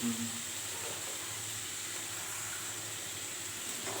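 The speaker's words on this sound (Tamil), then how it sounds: "தக்காளி போட்டாச்சு ரெண்டும் நல்லா வதங்கட்டும்" Tomatoes sprinkled with salt sizzle in a pan while frying for jeera pulao. It is a steady, soft hiss that stays even throughout, with no talking.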